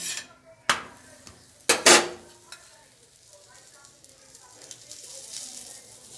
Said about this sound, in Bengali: আমি অল্প অল্প তেল দিয়ে একটু করে ভেজে নেব